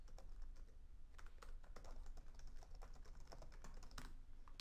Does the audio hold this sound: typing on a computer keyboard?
yes